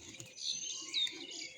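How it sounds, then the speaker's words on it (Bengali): Pigeons at a pigeon keeper's loft, with several varieties of playing pigeons together: soft chirps and a short high call rise over a steady faint background twitter, close and continuous with no talk. "তো গাইজ দেখতে পাচ্ছ বিভিন্ন রকমের পায়রা আছে এখানে।"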